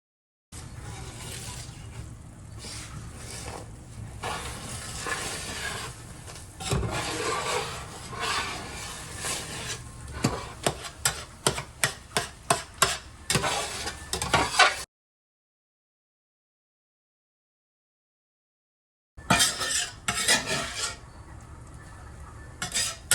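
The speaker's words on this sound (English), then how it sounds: "You've gotta have a well-greased, very hot cast iron to make scrambled eggs." Scrambled eggs cook in a well-greased, very hot cast iron pan while a utensil stirs and scrapes, with rhythmic scraping strokes over a steady sizzle, then a silent gap and more scraping.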